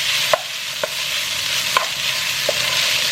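Rice and garlic frying in stir-fry oil for St. Louis style fried rice, a steady loud sizzle broken by a few sharp scrapes or taps, close and alone with no voices.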